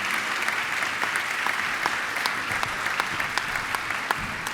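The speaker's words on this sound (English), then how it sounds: "So I'd like to just give a little applause and gratitude to the staff of Friends" At an interfaith prayer breakfast, an audience gives a round of applause for charity staff, a dense, even patter of many hands with a few sharper nearby claps standing out.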